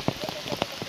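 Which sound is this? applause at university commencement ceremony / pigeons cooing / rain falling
rain falling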